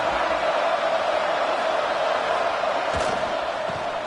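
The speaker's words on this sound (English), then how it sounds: "this home crowd is fired up and ready to make a difference" A home crowd at a football game roars in a steady, dense wash of cheering that holds at an even level throughout, with a few brief knocks and thumps near the end.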